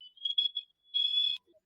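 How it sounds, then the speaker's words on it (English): A smoke alarm inside a home sounds in faint, high electronic beeps, a few short chirps followed by a longer steady tone, heard alone at a distance. "That appeared to be a smoke alarm."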